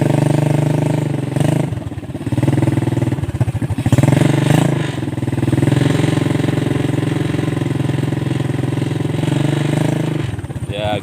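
A motorized becak with a hand gear shifter pulls away in first gear, its steady mid-pitched engine drone holding close and loud while people talk over it.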